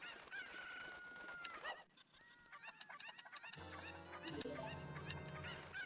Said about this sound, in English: grabbing that chicken is so difficult for me